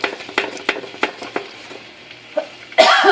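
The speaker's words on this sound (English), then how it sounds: "You want to scrape all that off with a spoon, because I don't want to scrape my pan up too bad." A spoon scraping browned beef bits off a cooking pan, a series of short rhythmic scrapes close up, ending in a louder sustained scrape.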